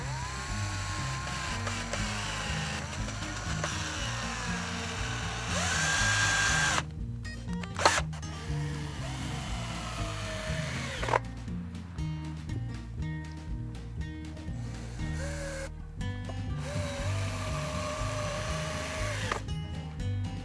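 A power drill driving screws into wooden van furniture, with repeated short whirring bursts and pauses over a steady background of music-like tones, close and fairly loud.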